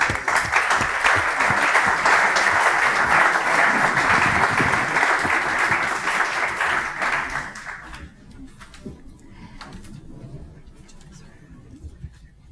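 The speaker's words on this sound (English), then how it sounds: "Can we give them a big applause?" A conference audience claps loudly for panelists taking the stage at a health care technology talk, a sustained burst that thins out after about eight seconds into scattered claps and room noise.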